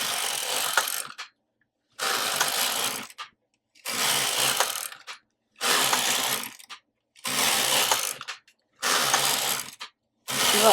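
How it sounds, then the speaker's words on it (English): A knitting machine knits yarn with mast tension set to 7, its carriage rasping across the needle bed in about six loud, one-second passes separated by short silent pauses, in an even back-and-forth rhythm. "it's knitting beautifully. Having no problem."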